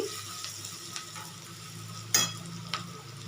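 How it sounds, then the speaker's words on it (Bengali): Vegetables for chow mein sizzle and fry in a pan, with a steady crackle broken by a few sharp scrapes and clinks of a spatula stirring them. "এখন সবজিটা খুব ভালোভাবে আমি ভেজে নিয়েছি"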